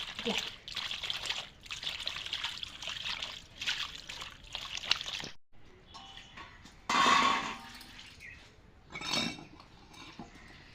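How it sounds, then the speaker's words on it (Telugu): Water is poured over small fish to wash them while preparing a village-style fish curry. A voice talks first, then come two short splashing pours with a trickle and some dish clatter. "నీళ్ళు పోసి కడుగుతా ఉంటాయి"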